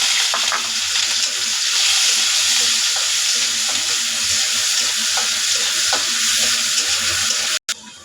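Green chilies and onion frying in a pan, a steady loud sizzle with faint scraping through most of the stretch, cut off abruptly near the end.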